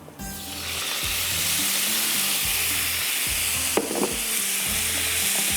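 Boiled bottle gourd tips into a pan of hot masala, and a steady, close frying sizzle follows, with a sharper splash and crackle partway through as the pieces hit the oil and get stirred.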